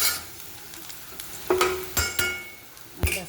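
Chopped garlic goes into hot oil in a pan while making a Gujarati chili dish, giving several loud sizzling bursts and stirring scrapes in quick succession, with no talk.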